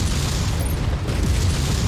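A fuel tank explodes in MechWarrior 5: Mercenaries, a low, rumbling boom that holds steady as a dense roar for the whole stretch, with no voice over it.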